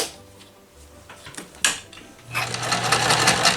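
A vintage Dressmaker sewing machine stitches in a quick mechanical run, starting with scattered clicks and knocks and then settling into a steady, louder whirring hum near the end.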